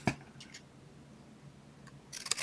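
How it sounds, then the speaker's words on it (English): Scissors snip paper flowers off a handmade card, a sharp close cut at the start and a few quicker crisp snips near the end, with quiet between. "went right below the stitched and cut the flowers off"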